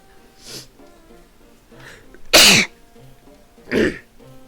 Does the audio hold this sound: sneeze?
yes